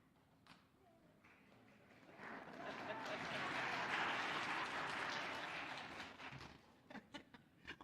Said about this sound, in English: Only in this church would you get a clap for that.